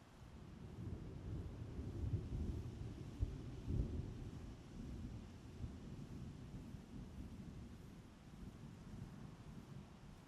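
Distant volcano thunder in the Horizon Zero Dawn game, a continuous low wind-like rumble that swells briefly early on and then holds steady at moderate level, with no voices.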